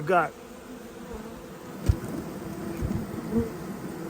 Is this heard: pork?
no